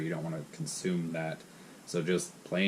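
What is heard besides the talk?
No everyday noise stands out behind the speech.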